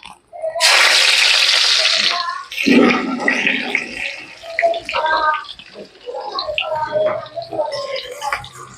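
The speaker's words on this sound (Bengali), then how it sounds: "গোটা গরম মশলাটা দেওয়ার পরে আমি রসুন কুচিটা দিয়ে দিচ্ছি" Whole garam masala and chopped garlic drop into hot oil for an egg chilli tempering, a loud burst of sizzling followed by steady crackling and spattering that lasts throughout.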